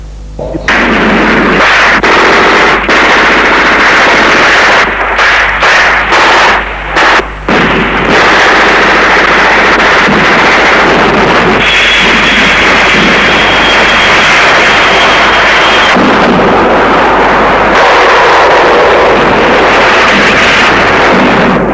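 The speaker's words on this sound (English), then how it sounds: "comes under ferocious artillery bombardment." Artillery bombardment and gunfire in the Biafran war near Port Harcourt, heard as a loud, continuous roar of blasts and bursts with sharp breaks and dense rumbling, no speech over it.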